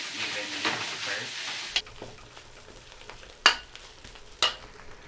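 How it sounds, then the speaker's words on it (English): Food browns in a hot pan ahead of a carbonara with pesto sauce, giving a steady close sizzle with a few sharp clacks of a utensil against the pan, then a quieter stretch of frying. "So we'll brown this first, guys, before we add the three sauces we're gonna use."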